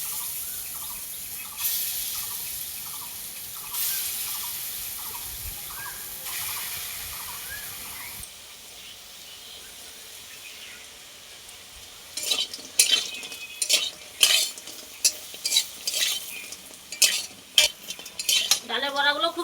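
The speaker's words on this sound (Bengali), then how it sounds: "এইবার আমি ডালের বড়াগুলো ভেজে নেব ছোট ছোট করে" Small lentil fritters fry in hot oil with a steady sizzle, while a utensil repeatedly scrapes and clinks against the pan in quick, close strokes, louder toward the end.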